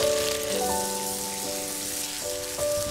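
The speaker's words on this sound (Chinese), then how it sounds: "锅里一层薄油，下大虾来勺盐" Prawns frying with a pinch of salt in a thin layer of oil in a wok, a steady close crackling sizzle with faint background tones.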